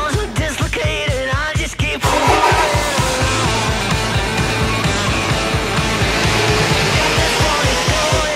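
A car's engine runs hard on a dynamometer power test, a loud rough drone with rapid pulsing and rising revs, close and continuous with no talk.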